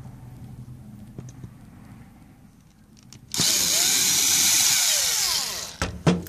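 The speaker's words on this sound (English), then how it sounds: "in order to get this whole assembly out and get access to that board, you will unscrew this." A power screwdriver backs out screws from the inner assembly of a Panasonic TC-P55UT50 plasma TV. A few faint clicks and handling knocks come first, then a loud, steady motor whir runs for about two and a half seconds and stops with a clatter.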